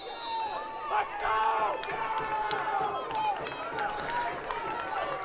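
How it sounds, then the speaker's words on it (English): Spectators at Frank R. Campbell Stadium roar at an Averett versus LaGrange college football game to fire up the home defense late in the game. The noise is a steady, distant wash of crowd sound beneath a commentator's voice. "the crowd here at Frank R. Campbell Stadium trying to rile up its defense"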